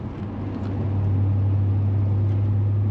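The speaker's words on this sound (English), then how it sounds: "Got a little bit of drone in fifth, as we're pulling at 70." A car with a 3-inch exhaust cruises in fifth gear at 70, giving a steady low exhaust drone that holds constant as a continuous hum beneath road noise.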